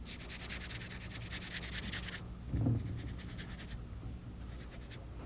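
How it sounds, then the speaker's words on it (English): Hands rubbing oil into flour for pastry in a kitchen, a soft continuous gritty rubbing close by, with a brief duller thump midway and no talking. "This is important, this rubbing action, so that all that oil is completely mixed into the whole batch of flour"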